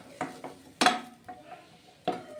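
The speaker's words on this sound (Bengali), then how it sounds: "কড়াই আবার একটা বসিয়ে দিয়েছি।" A kadai set back on the stove while making a beetroot cake, a few distinct metallic clanks and knocks, one louder than the rest, in a quiet kitchen.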